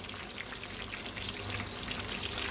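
Eggplant slices fry in a pan with a soft, steady sizzle and crackle that stays faint and even throughout, with no voices.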